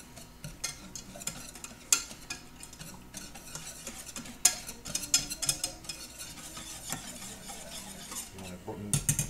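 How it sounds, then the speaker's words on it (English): A spoon repeatedly clinks and scrapes around a container while a chicken sausage mixture is stirred, giving uneven sharp taps over a soft background; close and fairly quiet, no speech. "Stir this up a little bit."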